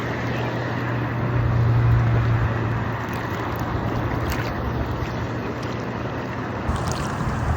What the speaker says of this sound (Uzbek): Sharsharani ovozini, ya'ni suvlarning ovozini eshitsa